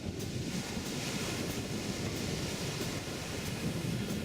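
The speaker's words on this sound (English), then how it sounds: "This beach, it's not covered in sand, but in tiny round and smooth little pebbles, almost like river rocks, created by the incessant rolling of the surf and the tide" Surf rolls over a beach of small round smooth pebbles on the Pacific coast, a steady continuous wash with wind buffeting the microphone and no voices.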